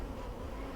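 A thriving wild swarm of honeybees in a hive box makes a dense, continuous buzzing hum, close and steady.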